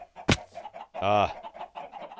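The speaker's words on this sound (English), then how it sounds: "Chickens." Chickens clucking with short, sharp squawks and one drawn-out cackle, sounding like game audio, fairly close with no talking.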